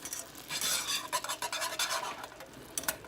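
Pecans being stirred into a hard-boiled bread pudding mixture in a pot on the stove, a steady close scraping and swishing with soft sizzling under it and no talk.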